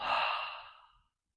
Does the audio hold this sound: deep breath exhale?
yes